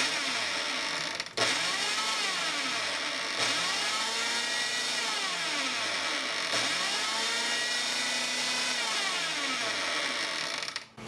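A food processor pulses flour and salt in bursts, its motor whirring loudly with rising and falling pitch in several repeated pulses and brief breaks between them.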